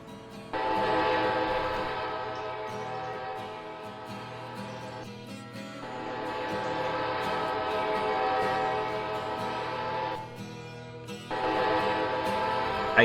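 A locomotive in the Railroader video game rolls into Bryson station, its horn sounding in long sustained blasts with brief gaps, loud and near, over a low rumble of rolling wagons.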